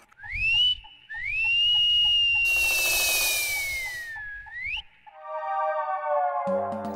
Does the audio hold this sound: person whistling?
yes